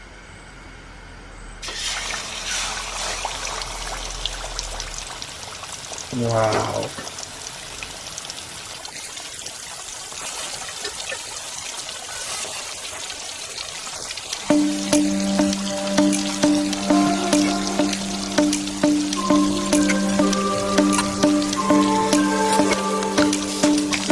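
Fish sizzles and crackles in hot, boiling oil with a continuous hissing fry during outdoor cooking near the Bharathapuzha river. Later, steady tonal sounds join the sizzle, and a single voice exclaims briefly.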